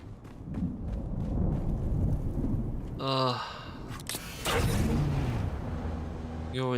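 Thunderstorm in a survival-building video game, rumbling thunder and steady rain noise rolling through the whole stretch with a couple of sharper crashes, loud and near, with speech-like sounds mixed in.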